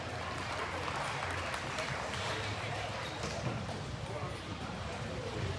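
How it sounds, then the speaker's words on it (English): Sustained applause for exhibitors in a junior market barrow show ring at the Arizona National, a dense steady patter of clapping from the crowd lasting several seconds, with voices mixed faintly underneath. "Let's go ahead and give those exhibitors a nice round of applause."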